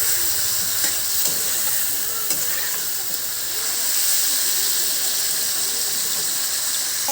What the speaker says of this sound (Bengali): এগুলোকে ভালোভাবে ভেজে নিতে হবে সুন্দর করে।